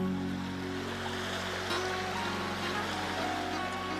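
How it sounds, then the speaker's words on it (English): Ocean waves wash steadily and continuously close by, a broad, unbroken rush of surf with no talking over it. "Boy, you could just listen to that sound of the waves all day."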